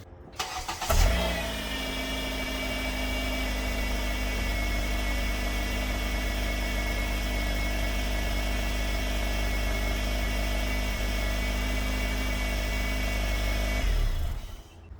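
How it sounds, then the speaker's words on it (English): A 2013-2017 Honda Accord raised on jack stands starts up and runs at a steady idle for over ten seconds, a close, even engine hum that cuts off at the end. "I'm going to turn the vehicle on and pump the brakes so that the calipers start squeezing."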